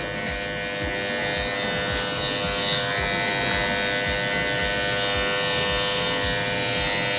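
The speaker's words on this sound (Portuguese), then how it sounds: "Eu vou vir com a máquina bem leve para retirar." An electric hair clipper runs steadily and close up while trimming a razor-cut haircut, lightly touching up a faint line left in the fade, giving a constant loud buzz with no talking.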